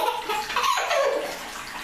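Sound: bathtub water running for a child's bath

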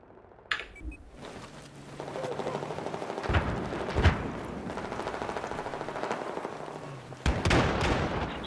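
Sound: bombing explosions in Battlefield 4 video game

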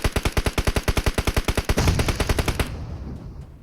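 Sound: gunfire in a shooter video game

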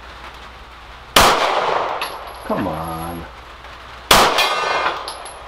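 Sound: rifle bullets hitting a steel gong target

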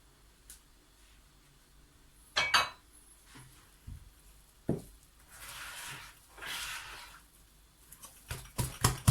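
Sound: whisking sourdough chia bread dough by hand

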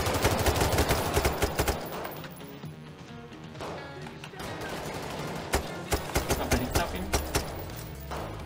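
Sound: gunfire in video game Payday 3

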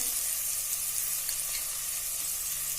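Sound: green chillies added to hot oil, sizzling

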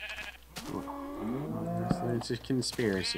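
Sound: sheep bleating in a video game

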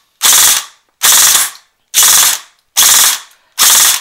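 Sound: airsoft AEG electric gun firing burst

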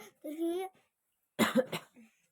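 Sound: cough

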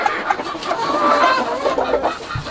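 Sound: hens clucking

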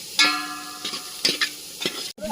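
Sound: onion being dry-roasted and stirred in a pan

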